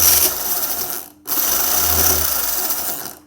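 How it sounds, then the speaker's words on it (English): An old Jouef Class 29 model locomotive's electric motor whirs on a temporary bench when wired straight to power, a steady high buzz that cuts out briefly near the middle and then resumes. "Well, there's life. The motor's not completely dead."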